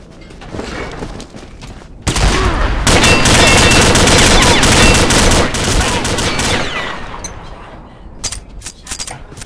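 Gunfire rattles in the video game Combat Arms, including an M99 rifle: a dense, loud burst of shots and impacts about two seconds in that runs for several seconds, then sparser cracks and clicks.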